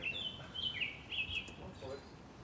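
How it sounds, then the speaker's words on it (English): Birds sing in an outdoor field recording, with thin high chirps and trills repeating over a steady wash of wind-like background noise, faint and somewhat distant. "I was taking field recordings of the birds just now."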